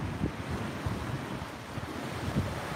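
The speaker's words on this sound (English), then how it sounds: "Look, the waves are calming." Ocean waves wash onto the shore during a striper fishing session from the beach, with a soft, continuous rolling surf under gusty wind.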